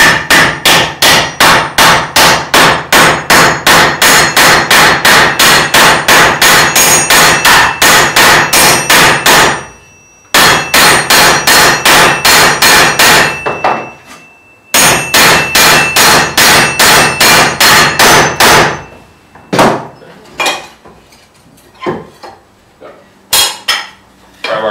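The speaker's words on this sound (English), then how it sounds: "take a ball peen hammer and peen the end of this all over so it sticks in the hole" A cross peen hammer peens over the end of a metal piece, landing rapid, loud, ringing metallic blows in long fast runs with brief pauses, then tapering off into a few scattered, separate strikes.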